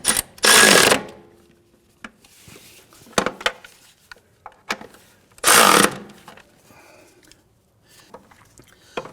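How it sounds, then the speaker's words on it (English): A ratchet tightening control arm bolts on a 2004-2008 Acura TL front suspension, heard as two loud bursts of rapid clicking plus scattered shorter clicks and metallic handling noises in a quiet garage. "we can go ahead and snug down these bolts"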